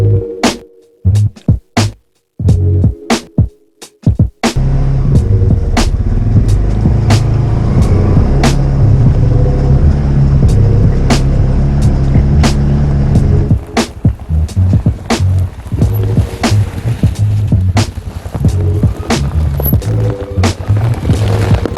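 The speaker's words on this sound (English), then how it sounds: "This is a 2021 Polaris Ranger 570-4." A 2021 Polaris Ranger 570-4 off-road side-by-side driving, its engine a loud continuous drone broken by sharp knocks and bumps from rough terrain, steady throughout with no talking.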